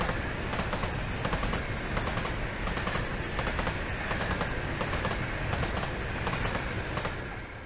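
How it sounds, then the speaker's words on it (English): A train in Train Simulator 2021 on the West Coast Main Line between Preston and Birmingham, a loud steady rumble with a repeating clickety-clack of wheels over rail joints, fading slightly at the end. "I like the clickety-clack."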